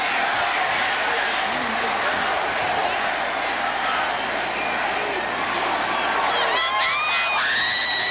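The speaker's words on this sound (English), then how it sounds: "Good crowd on hand here at the RCA Dome this afternoon." A crowd at a 5A state championship high school football game in the RCA Dome makes a broad, continuous murmur with rising cheers and whistles near the end, under a commentator's voice.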